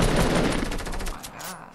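Sustained automatic gunfire from a video game rattles loudly in a fast, even rhythm, then fades toward the end.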